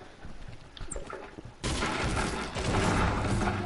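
Sustained gunfire erupts in a large 50v50 online shooter match, starting after a quieter stretch of scattered game noise and continuing as a dense, loud barrage.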